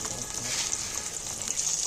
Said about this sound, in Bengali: মাছটাকে নিয়ে দিয়ে ভাজতে হবে কেন মোটামোটা পিস তো ভালো ভাজা হবে